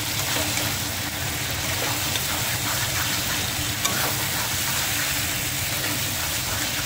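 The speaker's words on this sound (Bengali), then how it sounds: "এটা বেশি ভাজতে হবে না, যেহেতু আলুটা বেশি ভেজে নিয়েছি এর সাথে করে আর একটু ভাজবো" Potato pieces fry with mustard-poppy paste and garlic in a pan, giving a steady, even sizzle and crackle that runs unbroken at moderate volume, with no voices.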